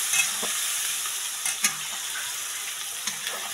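Khichdi masala is stirred in a frying pan, giving a steady close sizzle broken by a few sharp scraping strokes of the spoon against the pan.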